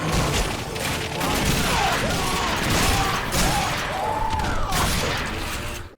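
Weapons fire heavily in The Darkness 2, including shotgun blasts amid a dense, loud barrage of shots and bangs, with an occasional voice beneath the noise.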